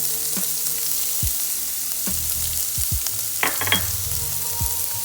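Garlic and onion frying in a hot pan of olive oil, a steady sizzle with a few stirring knocks and scrapes against the pan, close and alone with no voices.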